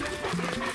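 A German Shepherd growls in a short, close, rumbling burst that lasts under a second.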